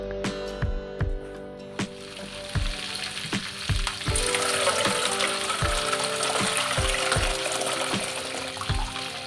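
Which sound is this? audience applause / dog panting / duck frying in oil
duck frying in oil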